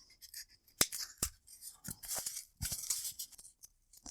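Scissors snip through thin cardboard to cut out a circle for a yarn pom-pom, giving a quiet, irregular series of close crisp cuts and rustling, with a few sharper snips standing out.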